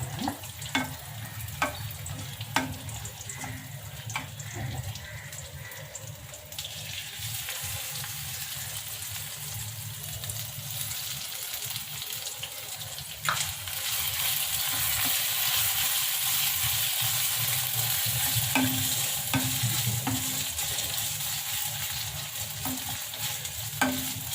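Raisins and cashews sauté in a couple of spoonfuls of ghee for a festive thali, a steady close sizzle broken by scraping stirs that grows fuller and louder halfway through, with no talking.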